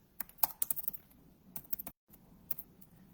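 Quiet, irregular tapping of keys on a computer keyboard, short bursts of clicks with a brief pause, close and soft.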